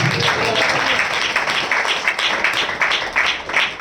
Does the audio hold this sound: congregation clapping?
yes